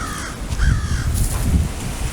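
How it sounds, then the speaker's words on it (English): Ravens calling outdoors on a breezy walk: a few harsh caws at mid distance over wind rustle and low rumble. "There are my ravens crowing."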